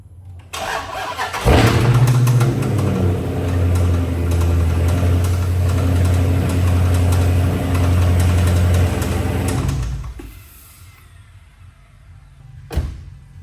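A Dodge SRT 392 V8 cranks and fires, then idles roughly and loudly for several seconds with an uneven, lumpy tone before shutting off, leaving near silence and one brief knock.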